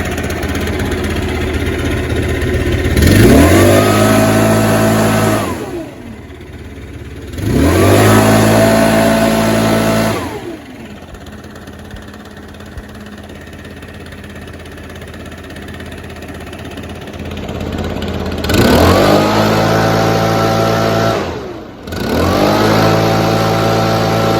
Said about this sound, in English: These aren't bad little blowers, they're just a pain in the butt to work on. This one runs pretty good.